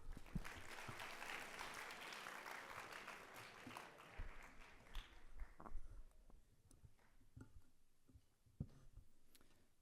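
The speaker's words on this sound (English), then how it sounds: "Let's have another round of applause for these three excellent candidates." Audience applause for head prefect candidates at a school assembly: dense clapping fills the first few seconds, then thins into scattered individual claps and fades toward the end.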